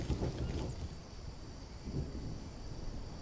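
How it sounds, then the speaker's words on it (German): A thunderstorm in the survival video game Green Hell sends low rolling rumbles and a steady wash of wind and rain across the clip, with no voice over it. "Wie geil, es kommt Gewitter."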